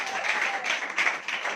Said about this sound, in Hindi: ताली बजा करके आप स्वागत करते हैं